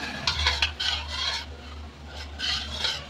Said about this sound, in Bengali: দিয়ে এটা আমি গুলে নেবো